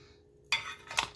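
Beef brisket fresh from the oven flipped over fat side down in a pan, giving two close, brief scraping clatters of metal utensil against the pan about half a second apart, with no talking.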